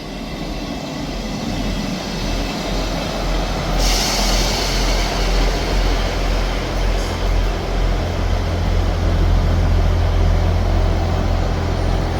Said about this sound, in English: Arriving in at the same time is a ScotRail service to Leven from Edinburgh Waverley